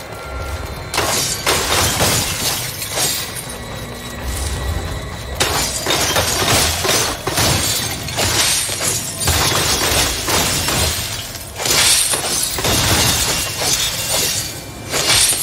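Crystals shattering during combat in the action video game Soulstice, a dense run of loud glassy smashes and crashes over game music for about fifteen seconds, with bursts recurring throughout.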